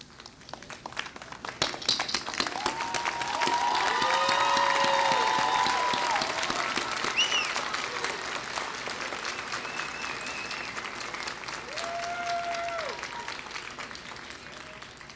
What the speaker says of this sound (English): Please rise and applaud all of those who have supported you.